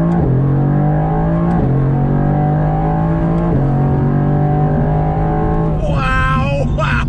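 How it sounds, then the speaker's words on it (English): A 2020 Mercedes-AMG GT R accelerating hard in first gear, heard from inside: loud engine roar climbing in pitch with quick dips at gear shifts, ending in a sharp rev flare. "Acceleration test, first gear,"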